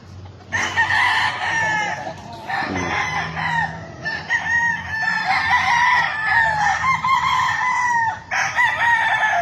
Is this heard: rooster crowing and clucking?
yes